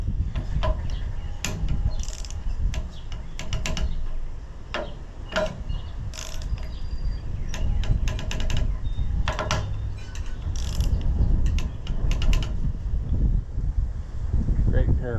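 During reassembly of an Allis-Chalmers WD tractor, a torque wrench tightens 3/8 bolts with repeated ratcheting clicks at an irregular pace, heard up close over a low rumbling background.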